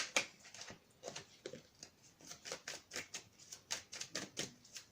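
Tarot cards are shuffled in a quiet, close run of soft riffling flicks and light taps in an uneven rhythm, with no talking.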